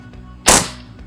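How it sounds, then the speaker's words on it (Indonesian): A single sharp shot from a Ruger AWM Turbo Black Army PCP air rifle, a loud, close crack with a short decaying tail and no voices. "menghasilkan 9 kali tembakan untuk senapan PCP Ruger Black Army AWM"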